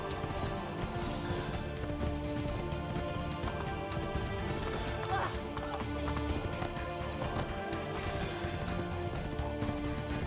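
Steady clip-clop of hooves at a quick galloping rhythm in the video game Assassin's Creed II, layered over dense music and game sounds that continue throughout.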